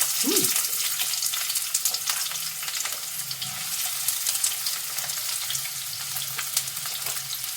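Onions drop into hot oil and fry with a continuous bright sizzle, with a clatter of stirring at the start and occasional spattering crackles throughout.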